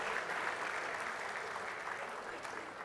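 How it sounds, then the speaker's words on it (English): An audience at a jewellery-industry charity event applauds with steady, dense clapping, faint and distant throughout the short stretch. "Come on, give them a big round of applause."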